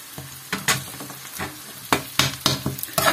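Onions fry in a pan with sugar and whole garlic cloves for a lamb dish, sizzling steadily up close while a spoon stirs and scrapes in repeated short bursts.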